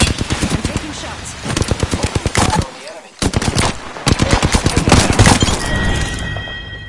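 Rapid automatic gunfire rattles in Apex Legends, loud and close, with bursts of fast shots, a brief pause mid-way, then more firing as a voice speaks partly under it.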